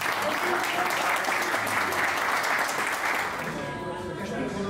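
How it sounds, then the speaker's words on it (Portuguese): Audience applause for Vasco at an etiquette talk, a dense steady wash of many hands clapping that holds for nearly five seconds and eases slightly toward the end, with faint voices mixed in. "Eu queria um aplauso para o Vasco."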